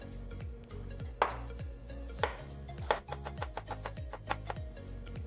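A knife chops through red cabbage on a cutting board, first in a few separate heavy strokes, then in a quicker run of sharp close taps, with no talking.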